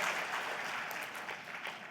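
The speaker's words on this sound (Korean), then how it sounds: "수고하신 분들에게 우리 한번 박수 한번 할까요?" A congregation at a Korean church's New Year gathering in Shanghai applauds the staff, a faint, steady patter of many hands clapping that stays even throughout.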